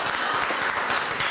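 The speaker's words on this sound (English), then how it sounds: "Please, applause for Meredith every time she speaks is only right." Steady audience applause fills a public forum for a speaker named Meredith, a dense, even wash of many hands clapping at once with no pauses, unbroken for its short span.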